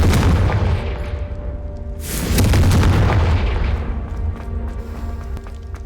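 Hogwarts Legacy Confringo spell blasts, heavy booming explosions with deep rumbling tails, one at the start and a second, louder burst about two seconds in, decaying slowly under faint game ambience.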